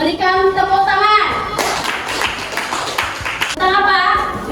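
A classroom group breaks into a burst of clapping, with rapid overlapping hand claps filling the middle stretch, close and loud, while a voice talks before and after.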